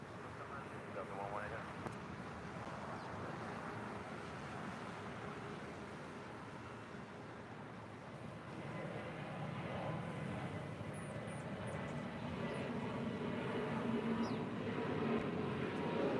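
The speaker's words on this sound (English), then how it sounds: "that 777-200 heading to Chicago O'Hare, flight 2039, making her way down taxiway Bravo to 25 right for a departure" A Boeing 777-200 taxis at LAX toward runway 25 right for departure: a faint, steady jet engine rumble and whine rises slightly near the end, with voices talking over it.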